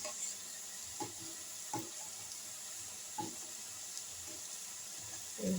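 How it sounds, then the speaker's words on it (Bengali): Chana dal dough pieces deep-fry in hot oil in a pan, a steady close hiss of bubbling oil with a few soft knocks and clinks, and no voices. "দেখো লাল লাল করে ভেজে নিতে হবে"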